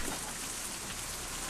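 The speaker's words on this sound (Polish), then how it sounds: "Kurde, ten deszcz was zagłusza, chłopaki." Steady rain pours down in the survival video game Out of Reach, a continuous broadband hiss of drops hitting surfaces that stays loud and even throughout, with no voices over it.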